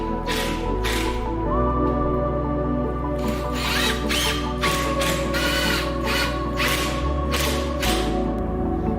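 A power drill drives 2-inch deck screws into wood, a loud whirring motor in repeated bursts of several seconds each, alone and close, with pitch shifting as each screw seats.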